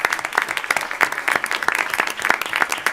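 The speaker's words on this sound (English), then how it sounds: "So let's give him a round of applause for that." Applause at a school board meeting for a long-serving district member: a steady roomful of hands clapping with dense, even rhythm, moderately loud and continuous throughout, with no talking over it.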